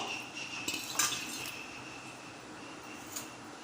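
A spoon stirs soaked sago and soaked moong dal together in a bowl, giving a few faint, scattered clinks against a quiet background.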